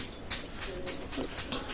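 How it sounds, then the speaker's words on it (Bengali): A Pakistani leather pigeon cooing close by, soft repeated low coos over a brief stretch with a steady background hiss. "এটা হচ্ছে বন্ধ লেদার কবুতর"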